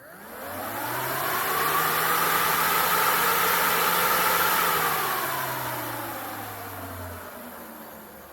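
An On Time game feeder's spinner motor whirs up, runs steadily with a humming tone that drifts in pitch, then begins winding down, loud and close with no talking.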